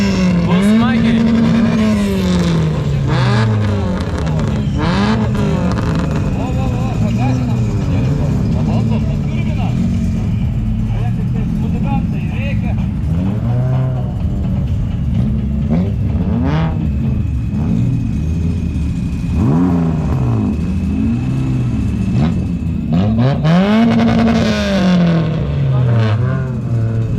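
Race cars revving and racing at a LESKA event in Pakruojis, engines roaring loud and close with repeated rising and falling revs and passes throughout, a continuous dense rumble.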